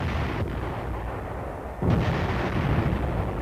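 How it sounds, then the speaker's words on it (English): Artillery fire from the 7th Division in the Korean War, 1952: heavy booming rumble over continuous battlefield noise, with a sharp loud blast near the middle followed by a sustained roar. "they get protective fire from 7th Division artillery and a hot reception from the enemy"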